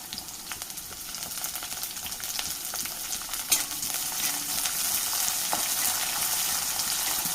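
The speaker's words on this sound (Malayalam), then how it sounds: "വെളിച്ചെണ്ണ നല്ലപോലെ ചൂടായി വന്നിട്ടുണ്ട് ഇതിലേക്ക് ഞാനൊരു പത്തിരുപത് ചെറിയുള്ളി ചെറുതായിട്ട് കട്ട് ചെയ്തിട്ടുണ്ട് വല്ലാണ്ട് കനം കുറച്ചിട്ടില്ലാത്ത കുറച്ച് കറിവേപ്പിലയും കൂടി ഇട്ട് കൊടുക്കാം" Shallots and curry leaves frying in hot coconut oil for a Kerala-style clam meat roast, giving a steady, close sizzle and crackle with occasional sharper pops, heard alone without voices.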